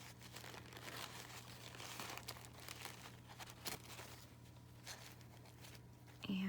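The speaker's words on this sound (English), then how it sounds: "I just simply pull down the napkin very carefully around the" A paper napkin crinkles and rustles softly as it is pulled down and smoothed around an ornament shape in a Christmas craft, a close, continuous papery crackle over a steady low hum, with a sharper rustle near the end.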